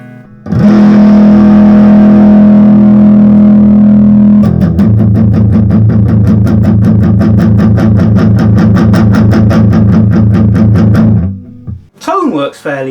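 An electric guitar plays through heavy distortion from a Mosky Plexi Pro pedal, a sustained fuzzy chord followed by rapid chugging strums, loud and buzzy, ending abruptly.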